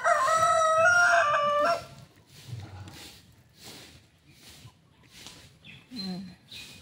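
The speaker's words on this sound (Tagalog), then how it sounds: "Laki ng manok oh." A large chicken crows loudly close by in a long cock-a-doodle-doo, then clucks and softer fowl calls follow, with rustling and a few quieter calls in the background.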